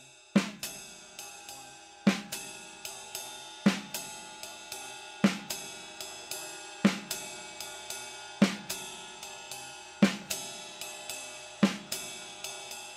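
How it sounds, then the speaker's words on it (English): A jazz ride cymbal pattern rings steadily, with crisp snare hits landing after count one between the cymbal strokes in a repeating, even comping groove. "we are going to add a snare drum note after count one"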